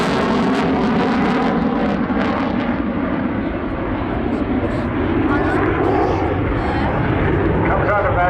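A Eurofighter Typhoon jet roars loudly and continuously through a high-g aerobatic display at the Southport airshow, a broad engine rumble that fills the whole stretch while a commentator talks over it.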